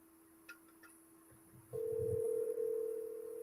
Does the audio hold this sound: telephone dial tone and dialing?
yes